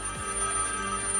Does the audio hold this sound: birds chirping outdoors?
no